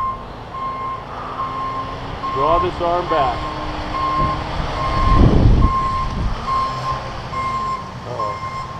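A truck's reversing alarm beeps steadily in a regular rhythm from outdoors, moderately loud behind someone talking, with a brief low rumble of the truck midway.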